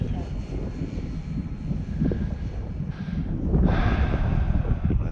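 An Air Tractor crop-duster airplane drones past in flight on a gusty, shifting-wind day, a low rumbling engine tone heard from the ground and partly buried under heavy wind buffeting on the microphone.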